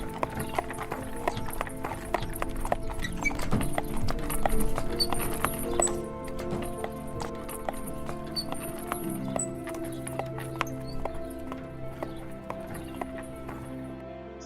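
Horse hooves clip-clop on the path at the Gedong Songo temple complex, a steady run of sharp, close knocks, with a whinny and faint murmured voices mixed in.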